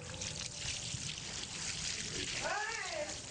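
Water pouring steadily onto a man during a live waterboarding demonstration, a continuous splashing trickle with muffled gasping sounds near the end.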